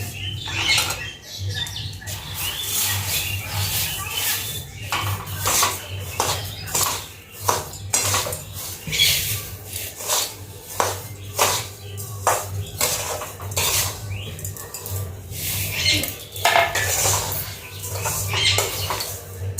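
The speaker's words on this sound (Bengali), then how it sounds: "এবার ভালো করে নাড়াচাড়া করব তারপরে পাঁচশো গ্রাম চিনিটা চিনিটাও সুজিটার মধ্যে দিয়ে দিচ্ছি" Semolina and sugar being stirred in a pan in a village kitchen, with repeated scraping and clinking of a utensil against metal in an irregular rhythm, close and fairly loud over a steady low hum.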